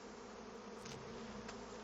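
Bees buzz steadily in Divinity Original Sin 2's Driftwood woods, a dense, continuous insect drone with no voices over it.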